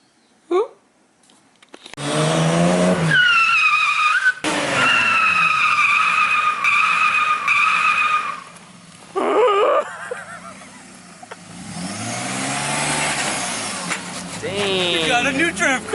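Car tires squeal loudly in long sustained skids, with engine revving and short honk-like bursts between them, close by.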